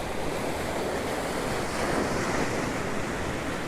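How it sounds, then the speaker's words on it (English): Ocean waves rush in steadily on the shore at Hervey Bay at sunset, a continuous loud surf wash with wind buffeting the microphone. "that's what I wanted, all those waves rushing in"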